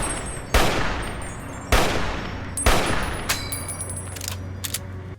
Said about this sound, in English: The battle rifle in particular, which is my favorite weapon from New Vegas, has a nice sense of recoil and momentum.